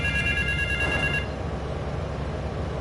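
A telephone in GTA 3's West Belleville Park rings with a bright, electronic trilling that repeats for about a second, then gives way to quiet in-game background ambience.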